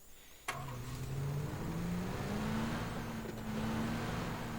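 A vehicle drives in PUBG, starting with a sharp click before the engine hums up, its pitch rising in steps as it accelerates through gears, steady and moderately loud.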